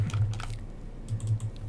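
Typing on a computer keyboard: rapid close key clicks arrive in two quick bursts separated by a brief pause, loud and clear with no speech.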